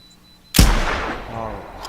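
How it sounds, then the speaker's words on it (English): A single loud rifle shot at big game in the hunting game theHunter, a sharp close crack followed by a long rolling echo that slowly fades. "I'm going to have to go ahead and take the shot from here."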